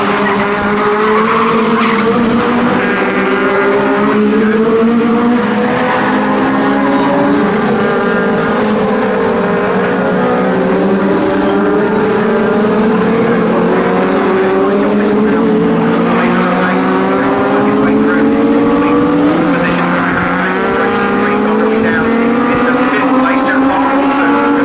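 Legends race cars roaring around Snetterton circuit, several engines rising and falling in pitch as they pass, loud and continuous with tyre noise throughout.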